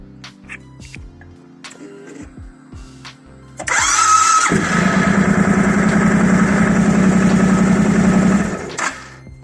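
A few mechanical clicks, then a 1.5-litre motorcycle engine, powered directly by LiFePO4 EVE 33140 15Ah cells without a BMS, cranks and catches, revving loudly with a steady buzzing drone before cutting off abruptly.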